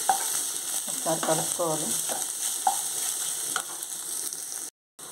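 Onion and ginger-garlic paste frying in a pan, a steady loud sizzle with stirring scrapes, while someone speaks briefly over it.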